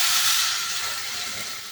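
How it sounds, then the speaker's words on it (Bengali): Roasted semolina fries in ghee with a steady, close hiss that fades only slightly over a moment. "এটা যদিও রোস্টেড সিমই, তাও আমি একটু ঘি ভেজে নিই"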